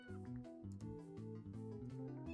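Cats meowing at the night market in the video game Slime Rancher 2, faint repeated meows over a soft melodic background.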